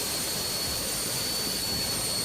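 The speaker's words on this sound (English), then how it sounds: "This is the Rolls Royce engine" Steady roar of a simulated Rolls-Royce jet engine on a Boeing 757-200 in X-Plane 12, broadband rushing noise with a thin constant high whine, loud and unbroken.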